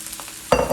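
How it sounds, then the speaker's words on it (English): Shrimp, eggs and fried rice with pineapple being stir-fried in a hot pan: a quick scrape and sudden sizzling burst halfway through, short and close. "we want to stir fry this all together"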